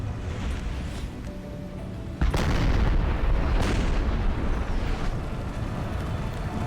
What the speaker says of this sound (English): They're firing point blank into the Prussians.